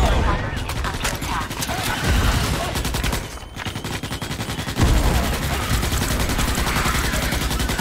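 Gunfire from a sniper bug in the Starship Troopers: Extermination shooter game, loud dense bursts of rapid shots and crackling fire that continue throughout, with a brief lull midway.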